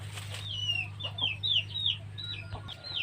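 Chickens and chicks cluck and chirp in a quick run of high calls over a low steady hum, fairly close, in a small vegetable garden.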